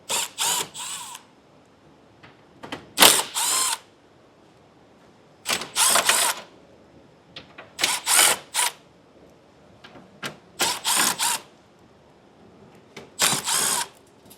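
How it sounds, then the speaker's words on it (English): A tool drives out the 8mm screws holding the lower fascia on a 2017 Mini Club, giving six short, sharp bursts of ratcheting, whirring clatter separated by quiet pauses. "along the bottom, we'll remove the remainder of the 8mm screws that are holding our fascia on"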